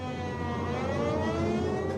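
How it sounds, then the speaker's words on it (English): Air raid warning sirens wail continuously, their tones slowly rising and overlapping in a steady, droning blare that sounds fairly distant. "as suddenly the warning sirens sound"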